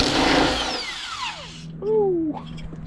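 A Milwaukee power tool whirs at high speed on a truck's bumper bolts, winding down with a descending whine, then briefly spinning up again, loud and close.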